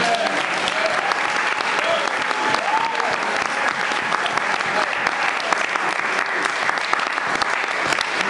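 A church congregation applauds and cheers the Lord with loud, dense, sustained clapping and raised voices that fill the whole stretch without a break.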